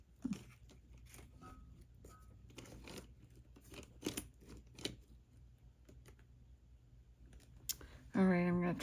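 Scissors snipping at a crafting desk, a scattered series of sharp, close clicks and small crunches over quiet room tone, ending in a louder rustling burst.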